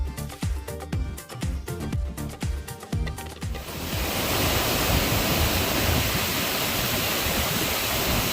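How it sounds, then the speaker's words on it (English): Horsetail Fall in Oneonta Gorge, Oregon, roars as a loud, steady rush of falling water, preceded by a few seconds of rhythmic clicking before the dense wash takes over. "A little farther is the Horsetail Fall."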